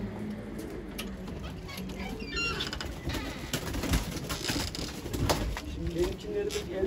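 Roller pigeons coo softly and repeatedly in an outdoor loft, mixed with bird calls and background chatter and activity, the cooing low and steady throughout.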